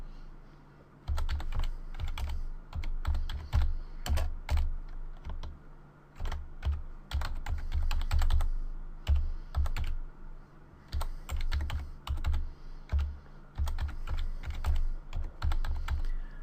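Close, steady typing on a computer keyboard at a Windows 7 command prompt: rapid bursts of clicking keystrokes with short pauses between them, and no talking.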